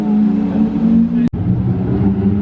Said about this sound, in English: Rev it!